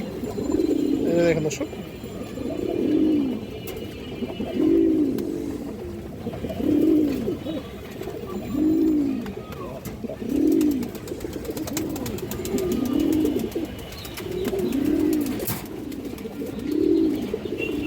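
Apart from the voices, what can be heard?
pigeons cooing, light-coloured Sabji Neowar pigeons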